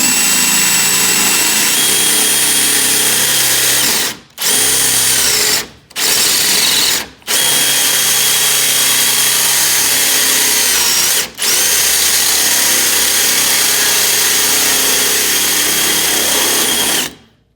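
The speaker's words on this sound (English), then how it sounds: "One more hole to drill" A power drill whirs loudly and continuously, drilling holes for bumper mounts on a Cobra 427SC replica build, stopping briefly a few times before starting again, the motor pitch shifting as it bites into material.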